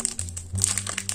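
A Pokémon TCG booster pack wrapper is torn open up close, giving a short burst of crackling, crinkling foil plastic over about a second.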